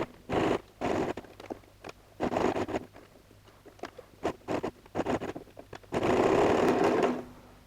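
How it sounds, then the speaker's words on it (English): A sewing machine runs in short bursts of rapid needle chatter with an edge stitching foot, stitching along the edge of a quilted messenger bag, with pauses between runs and a longer steady stretch near the end, heard up close. "I'm gonna sew from the opposite side because I want to see on the top where I'm sewing"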